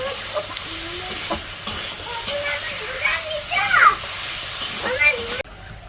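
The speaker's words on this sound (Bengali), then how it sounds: "তো ওই যে আলুগুলা কষাইতে দিছে" Potatoes sauté in a pan for a village-style fish curry, a sizzling hiss with occasional stirring scrapes, while a person talks throughout and children's voices drift in the background.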